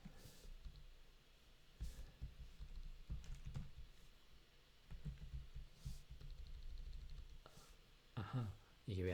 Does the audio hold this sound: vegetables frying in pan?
no